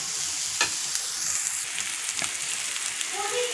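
Thecha, a crushed green chili mix, sautés in a pan over low heat, giving a steady soft sizzle with a few scraping stirs of a spoon, close and moderately loud, no speech.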